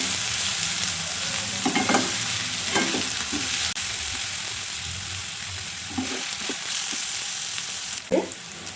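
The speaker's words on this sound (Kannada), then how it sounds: "ಇವಾಗ ನಾನು ಟೊಮೊಟೊ ಹಾಕೋತಾ ಇದ್ದೀನಿ" Tomatoes sizzle and fry steadily in a hot pan for palak paneer, a dense continuous crackle broken by a few soft stirring scrapes, close and fairly loud with no talking.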